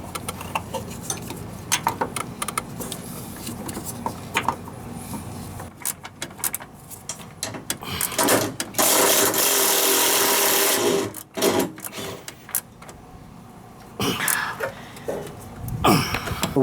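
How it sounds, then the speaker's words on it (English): A camber kit is bolted into a Honda CRV with a power tool: repeated whirring and buzzing bursts, some long and loud, mixed with clicks and clanks of tools and parts at close range. "we're gonna bolt the camber kit in, and it is just gonna bolt in right here"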